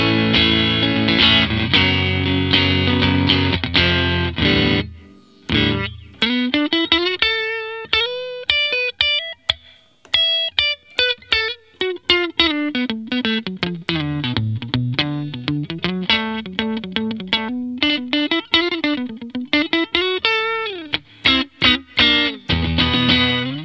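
An electric guitar runs through a Fender Twin Reverb-style amp model on a NUX MG-300, opening with ringing chords and then playing a melodic run of clear single notes, loud and up front.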